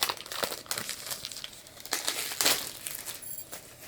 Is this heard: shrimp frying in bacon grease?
no